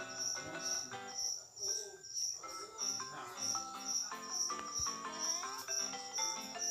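A cricket chirps in quick repeating pulses over soft, tinkling game music in Mario & Luigi: Superstar Saga, with a video-game ambience.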